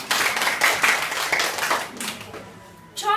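An audience at a school balagtasan debate competition claps in dense, sustained applause that fades off toward the end, after which a voice begins.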